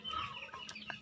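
A pet rooster clucks a few times close by, with short, sharp clucks near the end and no voices.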